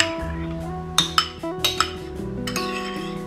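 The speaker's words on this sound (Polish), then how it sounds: "I całość dobrze ze sobą wymieszam." A utensil scrapes and clinks against a bowl as Chinese cabbage salad is tossed with dressing, with several sharp knocks over a soft, steady background of music.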